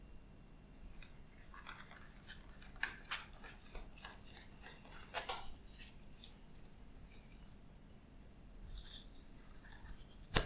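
Tarot cards are drawn from a deck in a quiet room. Soft, faint card rustles and light slides come in scattered bursts, with a sharper tap at the very end.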